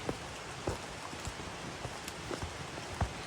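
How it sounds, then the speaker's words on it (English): Light rain falling on a road during a countryside walk, a soft steady patter with scattered nearer drops and a few faint footstep-like knocks, no talking. "It's starting to rain just a little bit"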